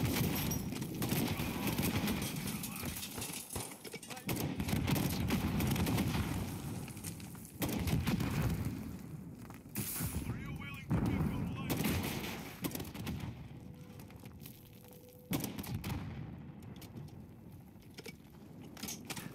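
Gunfire in Call of Duty MW3 Zombies, from the Storm the Castle solo mission, comes as repeated bursts of shots with mechanical clatter at moderate loudness, varying in intensity across the clip.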